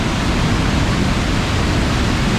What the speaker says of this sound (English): that's the water coming